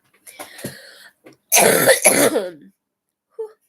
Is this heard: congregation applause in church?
no